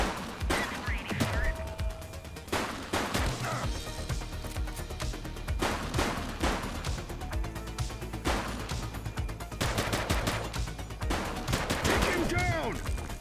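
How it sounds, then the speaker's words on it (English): Gunfire in the police sandbox video game The Precinct, repeated sharp shots and bursts in irregular clusters over about thirteen seconds, with shouted voices and radio chatter woven between the volleys. "He's shooting!"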